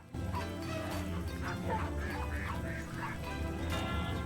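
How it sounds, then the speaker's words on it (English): Ducks quack repeatedly in a farming video game, mixed with a busy bed of music, bells and other farm animal sounds all at similar loudness. "I can hear music, church bells, dogs barking, people talking, chickens, ducks"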